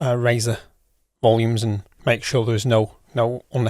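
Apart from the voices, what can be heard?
None of the usual background noises is heard.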